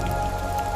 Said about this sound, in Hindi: बारिश शुरू हो चुकी थी।